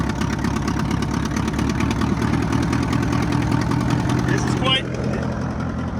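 An Allis Chalmers M tractor engine runs hard while pulling a disc harrow, a loud, steady, close chugging drone that holds throughout and eases slightly just before the end.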